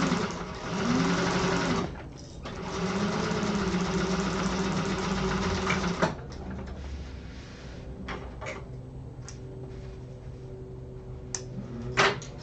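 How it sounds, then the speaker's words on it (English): A sewing machine chain-stitches the exterior of an Aster bag beside Peltex stabilizer, running in a steady loud whir for about six seconds, then stopping, with faint handling clicks and shuffles afterward. "I'm going to chain stitch these to save on some thread"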